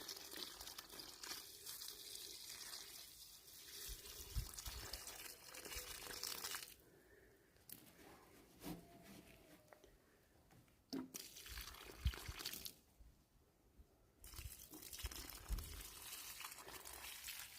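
Water poured generously around a freshly planted plant during autumn planting, soaking the soil near its roots; steady splashing pours come in bursts separated by short quiet pauses, close by, with no talk.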